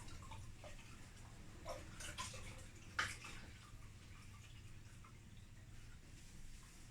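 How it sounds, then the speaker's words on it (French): Water running and splashing faintly as wooden furniture is rinsed after cleaning with a microfibre cloth, a quiet steady wash with a couple of brief drips and knocks. "on rince bien"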